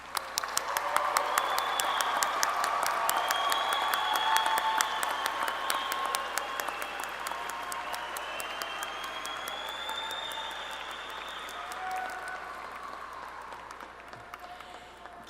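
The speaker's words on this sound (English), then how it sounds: "Let's give them one more round of applause." Sustained applause from a large crowd honoring graduates at a Keystone College commencement ceremony, steady dense clapping that holds for the full stretch and tapers slightly toward the end.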